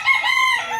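A rooster on a small chicken farm lets out a single short, close crow, loud and clear against a quiet background.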